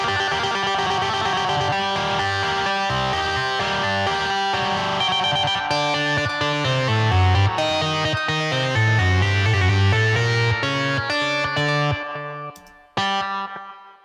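A bright, plucked Telecaster-style synth tone from Logic Pro X Sculpture with wide chorus and echo effects, playing a steady melodic pattern before briefly fading and picking back up.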